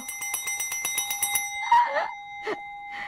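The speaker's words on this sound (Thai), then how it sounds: "เพจนี้ชอบกระดิ่งนะจ๊ะ" Bright electronic bell sound effect rings in a rapid series of about ten repeated chimes, followed by a few softer, scattered tones and a final single ding, with no speech.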